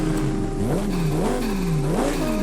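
Lamborghini Huracan Tecnica in Forza Horizon 5 running with its stock exhaust, the engine revving up and down in a few rising and falling sweeps, loud and up close, smoother and less throaty.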